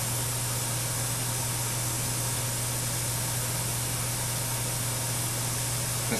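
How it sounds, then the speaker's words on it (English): An airbrush sprays primer in a steady, unbroken hiss that holds at an even loudness throughout, close and alone with a faint low hum beneath. "the best way to really airbrush is doing circular motion"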